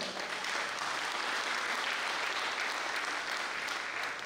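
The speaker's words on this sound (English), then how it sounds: "I want to clap the Lord" Church congregation clapping for the Lord during a service, a continuous even wash of many hands at moderate volume, steady from start to finish.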